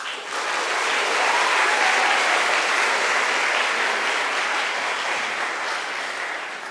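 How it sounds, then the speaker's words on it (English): A school string concert audience applauds steadily, swelling quickly and holding a dense, even clatter of clapping before easing slightly at the end. "Let's give them a big round of applause."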